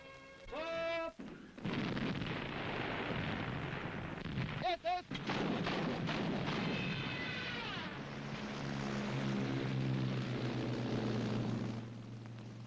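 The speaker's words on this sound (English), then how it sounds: "There's a pom-pom battery" A naval pom-pom anti-aircraft gun battery fires at sea, loud and sustained across the whole stretch, with an aircraft engine droning through it and brief voices near the start.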